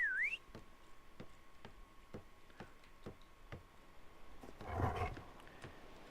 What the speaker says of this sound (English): let me whistle it